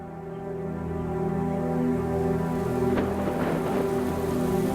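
Steady rain falls over the Linyanti floodplain in a continuous wash, with a low droning hum underneath and a brief burst of heavier patter midway.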